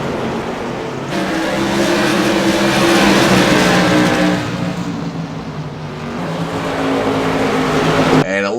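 Loud, close roar of CRA modified race cars battling for position on the Southern National Motorsports Park track, engines droning and shifting in pitch as they pass, with a race commentator talking over them.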